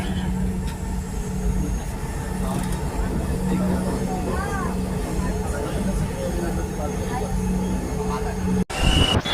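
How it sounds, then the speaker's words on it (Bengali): Dhaka metro rail train pulling away from a station toward Uttara, a steady rumbling roar with squealing wheel tones under a voice, ending in an abrupt cut and louder noise. "ওই যে ট্রেনটি চলে যাইতেছে আবার উত্তরার দিকে যাইতেছে"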